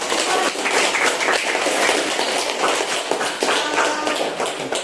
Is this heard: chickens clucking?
no